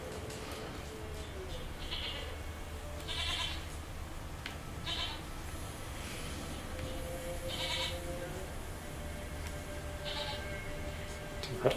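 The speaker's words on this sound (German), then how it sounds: "Da ist unsere Ziege" A goat in the Witcher 3 video game gives several bleats spread out at intervals, heard against a steady low background hum with no talking.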